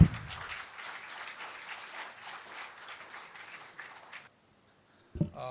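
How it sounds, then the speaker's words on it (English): An audience at a college induction program claps for a guest speaker, moderately loud applause lasting about four seconds before cutting off into silence, with a brief voice starting at the end. "A huge round of applause for Mr. Sameer Dutt."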